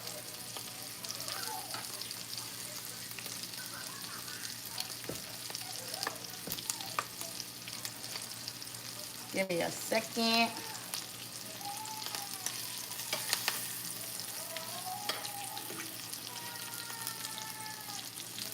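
Vietnamese spring rolls fry in two cast iron pans with a steady crackling sizzle close by, broken by louder bursts of spattering and stirring. A voice briefly speaks over the cooking.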